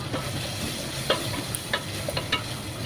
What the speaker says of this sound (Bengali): লঙ্কার গুঁড়া, হলুদের গুঁড়া, চিংড়ি মাছ সব কিছু একসাথে কষিয়ে নিচ্ছি